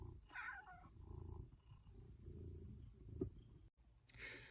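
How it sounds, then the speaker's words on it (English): Two Maine Coon cats meow inside a parked car, a few drawn-out calls rising over a steady low rumble, with a louder cry near the end. "I've just got to sit in the car with these two cats whilst they meow at me"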